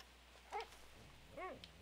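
A dog in the video game Red Dead Redemption 2 gives two short, faint barks about a second apart against a quiet backdrop.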